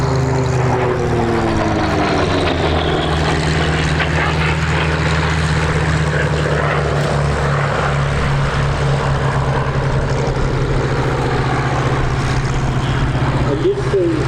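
A Grumman Bearcat piston-engine fighter races past at an airshow, its propeller roar loud and sustained with a shifting pitch as it passes, while a commentator talks over it.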